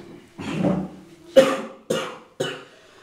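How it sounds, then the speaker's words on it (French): Four separate coughs from one person in a doctor's consultation room, one longer harsh cough followed by three sharp, close bursts spaced about half a second apart. "Je tousse trop."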